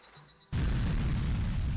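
A dust explosion on a mountain in a video game erupts after a brief quiet lull into a sudden heavy boom that holds as a loud, sustained roaring rumble.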